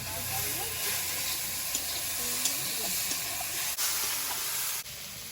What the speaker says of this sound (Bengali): রসুন আর কাঁচা লঙ্কাটা দিয়ে দেবো